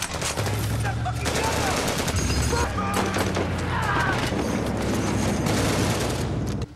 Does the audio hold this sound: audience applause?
no